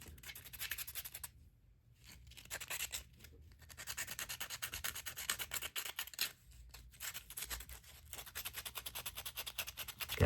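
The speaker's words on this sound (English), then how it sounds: "Also want to sand these little pieces." Continuous scratchy rubbing of sandpaper on a small 3D printed resin sculpture piece, up close and fairly steady, with brief pauses between bursts of strokes.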